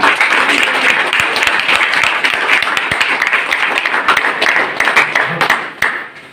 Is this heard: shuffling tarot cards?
no